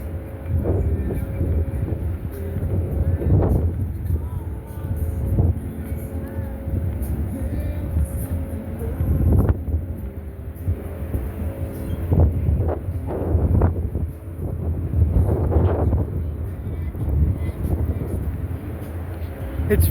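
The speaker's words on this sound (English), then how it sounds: "the cold, windy weather." Strong, cold wind gusts along the Las Vegas Strip, buffeting the microphone with a low, uneven rumble that surges and fades, while someone talks over it throughout.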